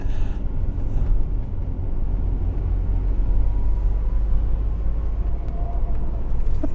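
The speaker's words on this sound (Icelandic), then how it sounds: "Ég að keyra upp Svarthöfða í 4. gír." A Renault Master van climbs the Svarthöfði hill in fourth gear. Its engine gives a loud, steady, low rumble that carries on without a break, mixed with road noise inside the cabin.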